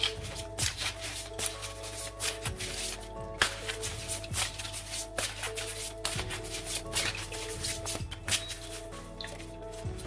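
Oracle cards being shuffled by hand, a steady run of soft crisp riffling and slapping card sounds repeating close up with no talking.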